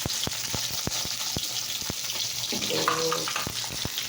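Pointed gourd (potol) fries in a pan with a steady sizzle, broken by regular sharp scraping taps of stirring; a voice speaks one brief word.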